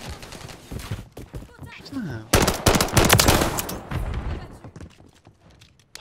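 Rapid bursts of automatic gunfire in a first-person shooter, loud and close, with a brief pause before a dense volley after two seconds; a voice talks over the early shots.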